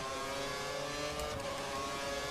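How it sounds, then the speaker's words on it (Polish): A race car's engine screams and accelerates in the F1 2013 video game at the Bahrain Grand Prix, a steady high-pitched whine with layered harmonics, sustained and close. "Albo za szybko wciskam pedał gazu, żeby cię dogonić."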